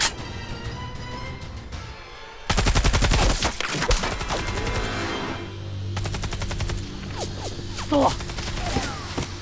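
Rapid bursts of rubber-bullet gunfire erupt during a military special-forces competition drill, loud and dense fusillades with shouting voices over them and a second volley later on.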